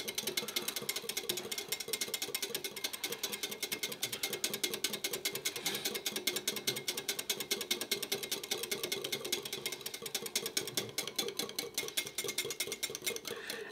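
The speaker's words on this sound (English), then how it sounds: "So I'm just lightly whisking the cup." Tea being whisked lightly in a cup with gentle back-and-forth strokes, giving a fast, steady, close scratchy ticking that runs evenly throughout with no talking.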